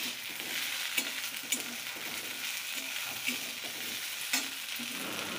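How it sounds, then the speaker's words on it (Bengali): Eggplant pieces fry in a pan, giving a steady close sizzle with a few soft stirring clicks and scrapes throughout, and no one talking. "তোমরা দেখতেই পাচ্ছ বেগুনগুলো প্রায় ভাজা হয়ে এসেছে"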